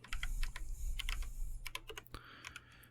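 Fingers type on a modded mechanical keyboard in quick, uneven bursts of crisp clacks, close and fairly quiet, with a few short pauses between runs of keystrokes.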